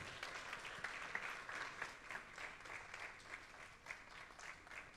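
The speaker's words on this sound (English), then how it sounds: "you can give them a big hand of applause" An audience at a live event applauds steadily, a dense wash of many hands clapping at a distance, fairly faint and continuous throughout.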